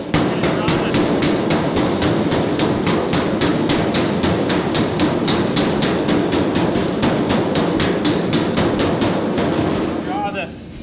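Rapid, steady hammer blows strike heated sheet metal on a damaged car hood, a loud, evenly spaced metallic pounding that runs nonstop for about ten seconds before stopping abruptly.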